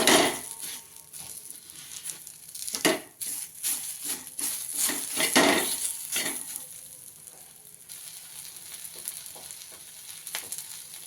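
Chopped onion sizzles and fries in oil, cooked over a traditional wood-fired chulha for a rustic Maharashtrian mutton curry, with steady crackling and repeated stirring scrapes against the pan, fairly close and continuous with no talk.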